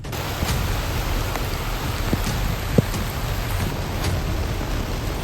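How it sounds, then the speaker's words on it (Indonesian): Heavy rain pours down steadily over a jungle shelter under construction, a dense, even hiss with occasional sharper drops, close and continuous, with no voices. "Diguyur hujan deras saat proses pembuatan shelter."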